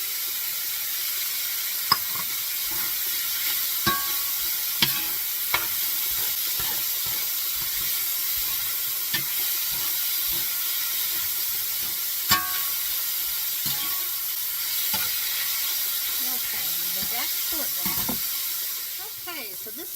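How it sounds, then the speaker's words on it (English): Pork with onion and garlic sizzles steadily in a pan for a Mexican pozole, a constant frying hiss broken by occasional scrapes and clicks of stirring. "I'm stirring this around, and I'm going to add some of my onion"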